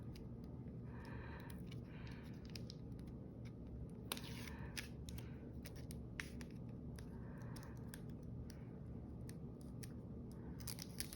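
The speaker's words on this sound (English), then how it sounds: "all I gotta do now is peel the double-sided tape off." Double-sided tape being peeled off a craft explosion box, faint close scratchy tearing and crackling rasps over a steady low background hum.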